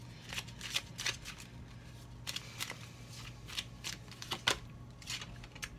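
Oracle cards being handled and shuffled for a relationship pick-a-card reading, a run of soft papery riffles and snaps in irregular bursts, close and fairly quiet over a low steady hum.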